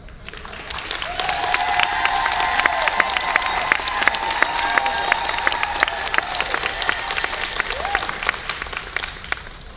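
Crowd at a spaniel dog show, the Flushing Spaniel Show Best in Show, gives a warm round of applause for a fan-favorite show dog, with dense clapping mixed with scattered cheers, steady throughout.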